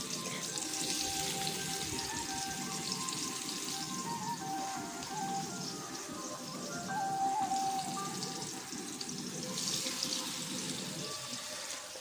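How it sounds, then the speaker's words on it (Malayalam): Steady, dense crackling and hissing of fish frying in hot coconut oil, continuous and fairly loud throughout, with faint clinks in the background. "വെളിച്ചെണ്ണ തിളച്ച് തുടങ്ങുമ്പോഴത്തേക്ക് മീൻ ഓരോന്നായിട്ട് നമുക്കിതിലേക്ക് ഇട്ട് കൊടുക്കാം"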